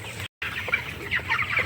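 A flock of 22-day-old broiler chickens huddled together in winter, giving soft overlapping clucks and chirps, fairly close but quiet, after a brief silent gap.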